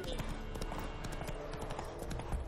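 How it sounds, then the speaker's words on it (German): Horse hooves clip-clop steadily at a riding pace in The Witcher 3 game, a continuous close rhythmic patter of hoofbeats with no pause across the whole stretch. "Ausnahmsweise mal nicht auf, Plötze, sondern mal fremd reiten."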